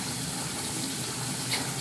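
Tap water runs steadily from a faucet into a sink while makeup brushes are washed, a continuous broadband splashing hiss at moderate level with no talking.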